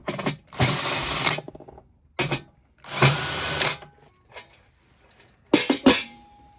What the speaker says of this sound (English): now we're gonna take these 4 Phillips screws out. And if you have a drill,